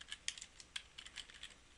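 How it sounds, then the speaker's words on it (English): Quick, uneven keystrokes on a computer keyboard as a URL is entered, light clicky taps close to the microphone with no talking. "Try typing the same URL"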